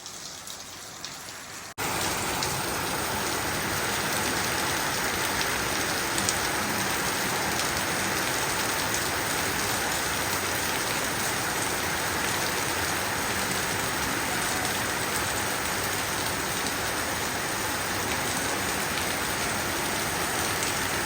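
Heavy rain pours steadily on a Punjab house, with a roof downspout gushing strongly at the back side; a dense, continuous wash of water noise, loud and close, with no talk.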